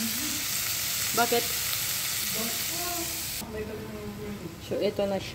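Fried Indomie noodles with vegetables sizzle and hiss steadily in a pan, a constant bright frying noise that stays close and loud throughout, with brief stirring and a voice speaking over it.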